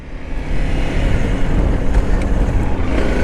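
Honda CRF300L motorcycle pulling away, a steady close engine drone with low rumble building over the first half second and holding loud throughout.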